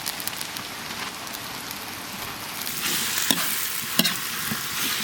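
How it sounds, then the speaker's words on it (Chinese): Dried chili pieces and meigancai (dried mustard greens) are stir-fried over low heat with salt, Sichuan pepper powder and soy sauce. A steady dry sizzle runs throughout, with sharp stirring clicks and scrapes near the end. "用小火慢慢把辣子段和梅干菜上的水分炒干就好了"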